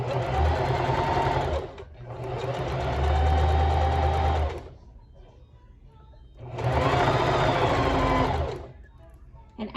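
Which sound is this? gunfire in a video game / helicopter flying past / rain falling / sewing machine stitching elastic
sewing machine stitching elastic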